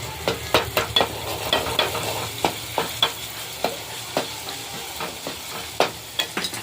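Spices crackle and sizzle in hot oil as a tempering for samosa potato filling, with repeated sharp stirring clicks and pops over a steady frying hiss, close and moderately loud, no talking.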